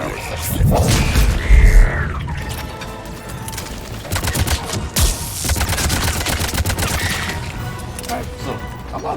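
Mass Effect Legendary Edition combat with dense bursts of rapid gunfire and crashing impacts, loud and continuous across the scene, mixed with game grunts and effects.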